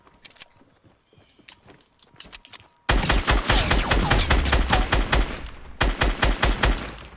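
Loud bursts of rapid automatic gunfire from the video game Fortnite follow a quieter stretch of scattered sharp shots, with dense volleys and a brief pause before another flurry, and no talking.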